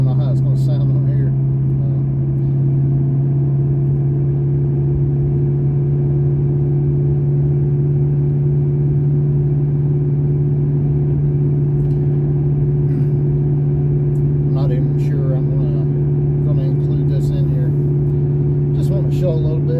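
A Paxton supercharged 3V Mustang making 550 rear-wheel horsepower drones with a steady, loud low-pitched engine hum while cruising, and a voice talks over it throughout.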